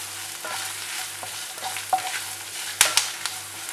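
Garlic, curry leaves and dried red chillies sizzle steadily in hot oil in a pan, with a continuous crackling fry broken by a few sharper pops and stirring scrapes, close and moderately loud.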